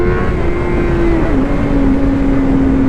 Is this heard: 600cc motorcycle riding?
yes